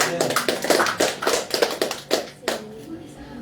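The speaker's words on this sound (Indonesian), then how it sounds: "Kiranya Tuhan memberkati kita semua. Tepuk tangan." Congregation clapping hands at a church anniversary thanksgiving service in Banjarmasin, a series of sharp, somewhat uneven claps in a loose rhythm with a voice heard among them.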